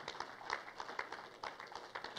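Church congregation applauding after a closing prayer at a revival service, a steady crowd clapping with irregular peaks, fairly faint and distant.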